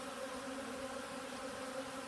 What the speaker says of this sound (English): I'm going to gently try to get as many of these bees off of here and down into there as I can.